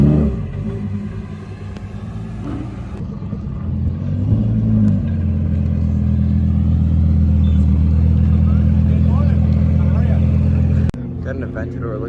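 Two Lamborghini Huracan STO cars drive past at a GoldRush Rally event at Radford Racing School in Chandler, Arizona. Their deep engine rumble swells as they approach, holds loud, then drops off sharply, with voices talking underneath.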